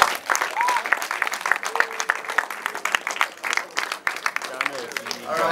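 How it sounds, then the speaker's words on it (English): Audience applause at a movie premiere for the film Omugwo, steady clapping across the whole stretch with crowd noise and voices talking over it. "can we give the actors a round of applause?"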